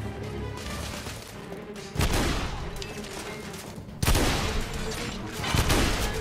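Shotgun blasts in the video game The Order: 1886, two loud booming shots about two seconds apart over steady gunfire and battle noise, with a third heavy burst near the end.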